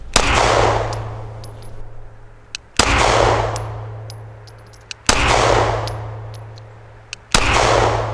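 A handgun is test fired in four loud, sharp gunshots spaced about two seconds apart, and each shot rings out with a long decaying echo, with no talking.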